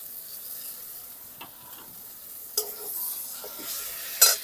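Spices, ginger-cumin paste, dried red chilli paste, turmeric and salt hit hot oil in a pan with fried pointed gourd, giving a soft steady sizzle under scraping stirs, with a few sharper sputters and clinks near the end.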